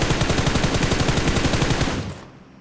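Rapid automatic gunfire in the PUBG Mobile battle royale game, a dense, loud burst of rhythmic shots for about two seconds that then cuts off into quiet.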